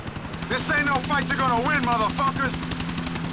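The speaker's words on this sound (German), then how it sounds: "Ah, das ist echt herrlich, dieser Helikopter." Helicopter in the video game GTA IV: The Ballad of Gay Tony, a steady rotor drone running throughout while someone talks over it.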